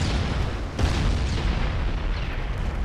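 Heavy 12-inch battleship main guns firing in a 1904 naval battle game, a dense, rumbling wall of booming blasts that rolls on for a few seconds without a break, loud and close.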